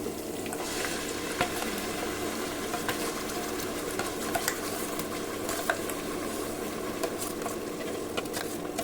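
Ground masala added to a frying pan for an avarekalu dish sizzles steadily while being stirred, with frequent spoon scrapes and taps against the pan, close and continuous without any talking.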